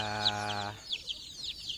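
Free-range Indonesian village chickens (ayam kampung) give several short, close clucks after a brief steady hum cuts off.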